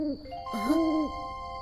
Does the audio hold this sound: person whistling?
no